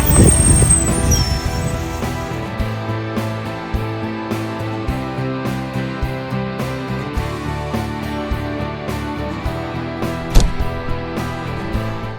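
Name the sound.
Porsche 924 race car driving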